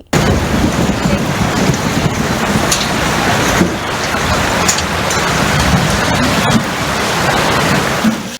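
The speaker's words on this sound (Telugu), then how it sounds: "ఎక్కడిది గాలి దుమారం తాకుడు తాకితే టెంట్లు ఊరినాయి కుర్చీలు అడ్డం పడ్డాయి" Heavy windstorm with rain and thunder striking an outdoor gathering of tents and chairs in the Karimnagar area, a loud continuous roar of wind and downpour with low rumbles throughout.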